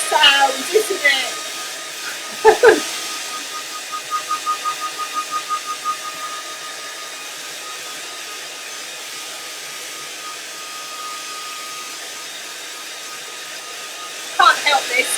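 A hair dryer used to dry acrylic paint blows steadily with a continuous whirring rush, broken by a few knocks and a brief run of rapid pulsing early on.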